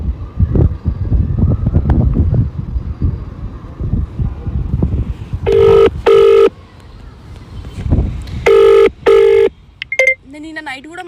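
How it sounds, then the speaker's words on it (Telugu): A phone on an outgoing call sounds two pairs of ringback tones, then a brief higher beep. Voices and handling noise come first, and the rings stand out clearly in the quieter second half. "ఆయనకి ఫోన్ చేసి మాట్లాడదాం."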